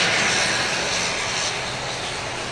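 An airplane back-taxis down the runway at Grand Cayman airport, its engine a loud, steady roar with a broad rushing hiss that eases slightly as it moves along.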